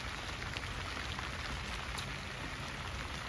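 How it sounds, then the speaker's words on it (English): Steady rain falling on an autumn garden with covered seedlings, a soft, even hiss of drops with no other sounds. "It's been raining all day"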